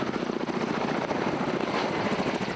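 Firefighting helicopter flying over a burning mountain forest, its steady rotor and engine roar filling the air continuously and loudly throughout, with no voices.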